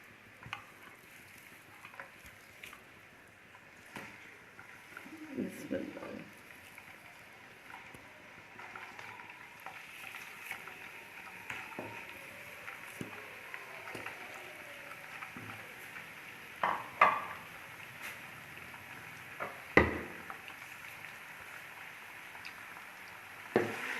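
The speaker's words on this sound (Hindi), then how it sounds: "थोड़ा सा चिकन को हम फ्राई करेंगे, इसका थोड़ा सा कलर चेंज करेंगे" Raw chicken, about a kilo and frozen beforehand, frying in a pot for white korma, giving a steady soft sizzle with occasional stirring scrapes and clinks that grow a little louder toward the end, with no talking.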